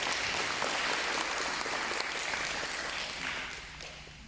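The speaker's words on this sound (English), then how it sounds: "So please give them a round of applause." Audience applause in a school hall at a citizenship ceremony, a dense, steady clapping that holds loud for a few seconds and then gradually fades.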